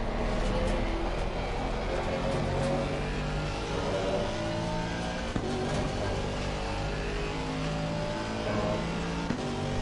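Mercedes AMG GT4 race car in a racing video game at Circuit of the Americas, its engine droning steadily and loudly throughout with revving pitch shifts, close and continuous.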